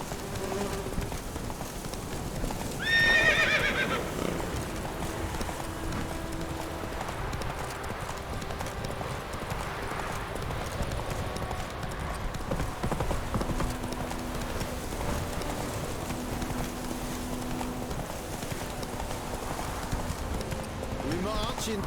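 Hooves of the horse Roach clip-clop in a fast, steady gallop in the Witcher 3 video game, with a whinny early on, ambient rain and insects, and voices talking over the hoofbeats.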